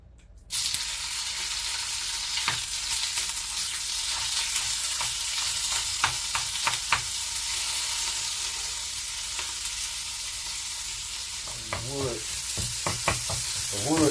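Food sizzles and fries steadily on a small stove top in a cabin, with scattered clicks, scrapes and stirring knocks throughout and a few brief squeaky tones near the end; no one speaks.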